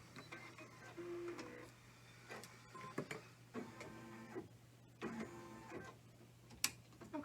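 An embroidery machine stitches a design in a 4x4 hoop, a quiet, steady mechanical whir with repeating rhythmic clicks and needle taps under a low hum.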